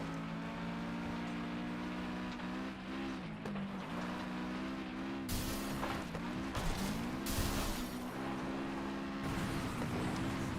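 A car spins out during a race in the video game Flatout 2: a steady, droning engine runs throughout, and harsh bursts of skidding and scraping noise break in around the middle.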